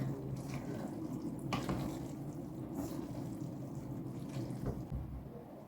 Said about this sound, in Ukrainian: Наливаю 200 мл води.